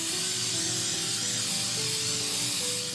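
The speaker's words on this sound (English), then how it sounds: "I'm gonna go ahead and put some spray oil on this." Cooking oil spray misted into a lined baking pan while preparing keto brownies, a steady continuous hiss lasting several seconds with faint tonal background hum.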